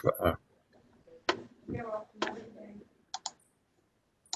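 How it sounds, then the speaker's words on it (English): Computer mouse clicks during a recorded online board meeting, a few short sharp clicks between stretches of nearby speech, with a quick pair of clicks near the end. "I'm clicking, but I'm not sure what I'm clicking."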